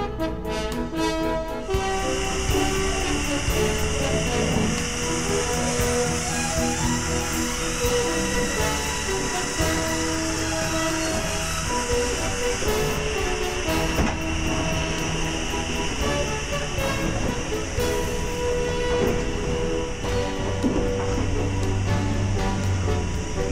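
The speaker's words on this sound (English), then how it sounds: "Today, the OL 4959 pulls the train." Steam train hauled by the OL 49 class passenger locomotive, a steady loud rumble and hiss of running gear and steam continuing without a break from start to end, with no voices.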